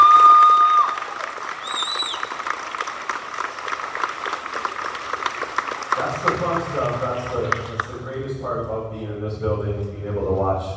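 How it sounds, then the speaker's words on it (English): Dense applause with a few whistles from a crowd at an elementary school fifth grade graduation ceremony fills the first six seconds, then fades as a voice begins talking over the thinning claps. "And I think one more round of applause for that."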